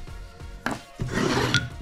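Hand sanding of a wooden table with a sanding block, steady rasping strokes in short bursts, close and moderately loud, with no talking.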